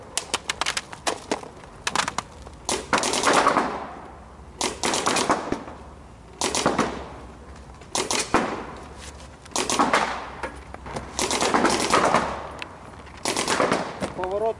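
Paintball markers fire in rapid bursts during paintball training, with clusters of sharp cracking shots separated by short pauses, loud and close, and a voice calls out rhythmic bang sounds in imitation of the shots.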